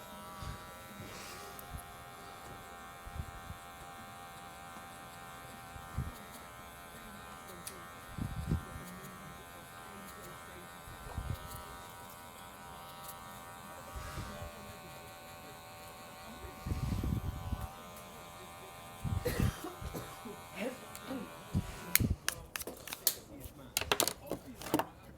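Electric hair clippers buzz in short bursts while cutting a skin fade, moving with clipper-over-comb strokes. They are fairly quiet, start and stop repeatedly, and a voice talks at times.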